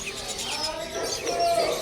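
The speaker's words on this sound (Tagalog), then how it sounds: "Yan, may mga lovebirds." Small birds, including lovebirds, chirp and tweet in short bright bursts at an animal market in the desert, with a soft coo mixed in among steady crowd murmur and distant voices.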